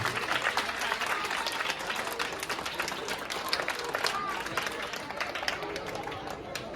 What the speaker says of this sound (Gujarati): તો આપણે એમને તાળીઓથી વધાવીએ